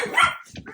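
A dog gives a short, close bark followed by a softer yip, brief and fairly loud in a domestic setting.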